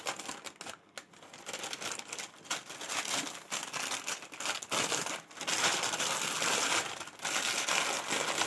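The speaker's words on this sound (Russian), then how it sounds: "Вот тут фирменный пакетик Бырдыка УЗ." A branded plastic packet handled and crumpled, giving dense, continuous crinkling and rustling at close range with brief pauses, no voices.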